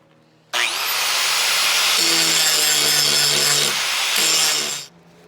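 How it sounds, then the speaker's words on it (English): An angle grinder with a hard disc hogs steel off a knife tang clamped to a board: the disc spins up with a whine, then a loud continuous abrasive grind that wavers briefly before winding down. "I'm just going to clamp this thing to a board and go at it with a hard disc on a grinder"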